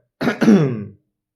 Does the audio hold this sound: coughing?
yes